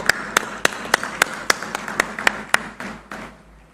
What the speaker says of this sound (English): A huge round of applause, ladies and gentlemen.